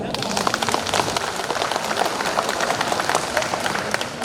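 A crowd at a Korean memorial ceremony for veterans claps in a dense, continuous patter of many hands, fairly loud and close, sustained for several seconds with some voices mixed in.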